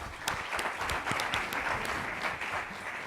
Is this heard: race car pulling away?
no